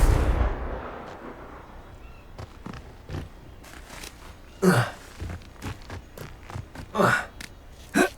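Confringo blasting spells cast in Hogwarts Legacy, several sharp bursts and booms scattered over a low rumbling game background, some louder explosive hits standing out, with no talking.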